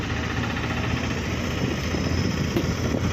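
Sugar cane tractors waiting in a long queue at a sugar factory in Varphal village, Partur, Jalna, a loud steady engine idle with low rumbling vibration, no talk.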